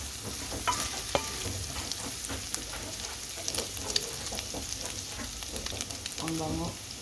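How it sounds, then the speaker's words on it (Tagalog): Grated garlic sizzles with shrimp in a hot pan, a close, continuous frying hiss broken by stirring scrapes and utensil knocks. "Tapos ilagyan na natin ang garlic na grated natin, guys. Igisa natin sa"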